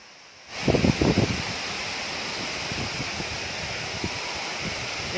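Labongke waterfall near Bulutanah, Watampone, in a remote spot, makes a steady, close, broadband rushing roar of falling water. A few brief thumps come near the start, and no one speaks.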